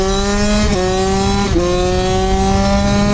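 A minimoto mini bike engine screams at high revs during a race launch, a loud steady buzzing whine that dips briefly twice as gears change, close and continuous.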